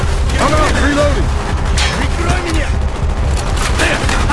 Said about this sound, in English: I'm out, reloading!